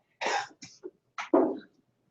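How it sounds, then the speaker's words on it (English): Several harsh coughs in two clusters, close and fairly loud, with short pauses between bursts and silence afterward. "excuse me while I cough up a lung."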